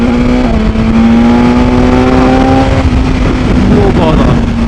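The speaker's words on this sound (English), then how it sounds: "Oh, we'll go for a couple of overtakes." A BMW S1000XR motorcycle accelerates hard to overtake on an open road, its engine note rising steadily under loud wind rush, heard close up from the rider's position.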